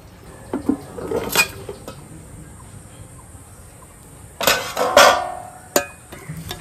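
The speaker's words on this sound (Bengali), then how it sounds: "এবার একটু ঢাকা দিয়ে দিচ্ছি" Metal clinks and clatters from a cooking pot being covered with its lid while making bhuna khichuri, a few sharp knocks at first, then a louder burst of rattling and one last tap, close by with no talking.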